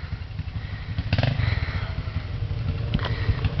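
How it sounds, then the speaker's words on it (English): A just-started dirt bike motorcycle engine runs close by in a steady throb, with a quick rev and some clatter early on and another small rise near the end. "That's if he can get his bike started, which it looks like he did."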